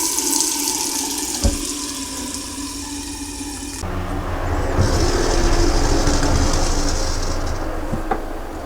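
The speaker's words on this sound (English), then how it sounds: "I'm gonna start going to a bunch of other faucets and opening them up so that we can allow the hot water to drain out of this thing." Water rushes from opened household faucets while a power-vent water heater drains. The flow is steady and close, shifting to a fuller, rougher gush partway through, with no talking.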